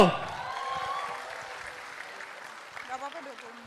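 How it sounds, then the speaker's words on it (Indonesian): Applause from an audience at an Indonesian political gathering rises right after an emcee's call and thins over a few seconds, with voices murmuring through the crowd. "Tepuk tangan untuk Seniman Bersatu."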